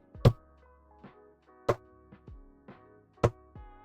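A person vocally imitates the banging call of a Blue Mountains frog from Australia: three sharp, loud percussive bursts about 1.5 seconds apart, each followed by softer, short trailing knocks, with no other sound.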